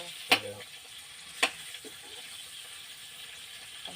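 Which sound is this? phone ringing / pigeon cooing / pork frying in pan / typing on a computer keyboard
pork frying in pan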